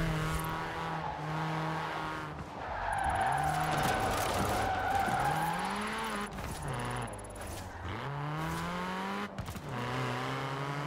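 Tires screeching and skidding as a car drifts in the video game Forza Horizon 4, with a loud, sustained engine roar that rises and falls over several slides, continuous throughout.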